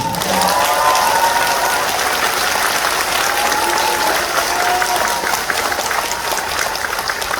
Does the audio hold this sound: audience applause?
yes